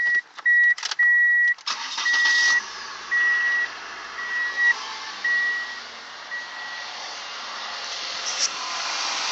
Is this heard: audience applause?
no